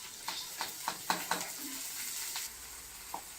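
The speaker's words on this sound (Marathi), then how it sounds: "तेल टाकायचं पोळीवर इतकासा हिंग टाकायचं आणि मटकी टाकून द्यायची" Moth beans fry quietly in oil with a pinch of asafoetida on a hot iron griddle, a soft steady sizzle broken by several sharp spatula taps and scrapes.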